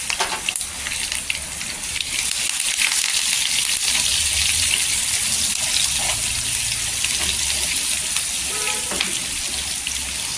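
Curry leaves and crushed garlic crackle and sizzle hard in hot oil for a chili bhaji tempering, a loud continuous spitting hiss with occasional stirring scrapes.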